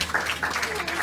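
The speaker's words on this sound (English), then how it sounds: "clap your hands, give more applause." Church congregation clapping during a service, a brief burst of applause filling the room while voices carry through it.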